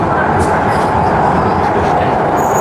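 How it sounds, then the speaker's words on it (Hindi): Rattling interior noise aboard a moving Prague metro train: a steady, loud rumble with hiss and faint clatter that runs through the whole stretch. "भाई मेट्रो के अंदर है, इस समय शोर आ रहा होगा बहुत बढ़िया वाला"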